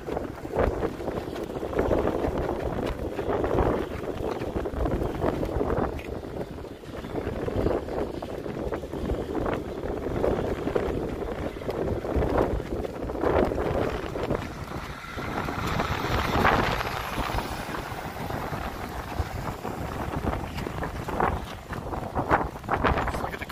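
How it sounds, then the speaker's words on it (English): Strong Arizona monsoon wind buffeting a handheld camera outdoors, a loud, constant rumbling roar with gusty surges throughout and no clear speech. "I'm holding the camera up and this wind's just pushing me around."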